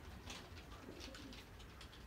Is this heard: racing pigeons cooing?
yes